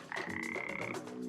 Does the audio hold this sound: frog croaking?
yes